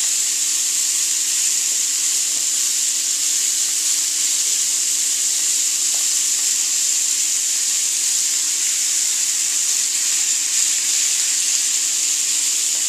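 Fish fillets frying in a pan give a steady, close sizzle, a dense hiss that holds evenly throughout with no talking.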